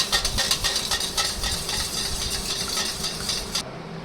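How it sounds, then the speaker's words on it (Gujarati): Yogurt (curd) being whisked in a bowl for raita, a steady close scraping and stirring rattle running continuously, then ending abruptly near the end with only faint room noise left. "તો દહીંને આપણે એકદમ સરસ રીતે ફેટી લીધું છે."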